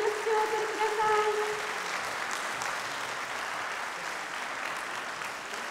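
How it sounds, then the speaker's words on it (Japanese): An audience claps for a children's choir at a children's music festival, with sustained, even applause from a full hall that tapers only slightly, and a brief voice or tone near the start. "山折合唱団の皆様に拍手をお送りください。"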